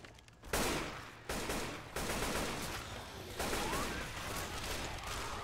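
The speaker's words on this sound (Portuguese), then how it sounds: "Acho que vou jogar um pouquinho de metralhadora" Sustained machine-gun fire in the zombie shooter game Left 4 Dead 2, loud dense bursts of rapid shots rolling on almost without pause.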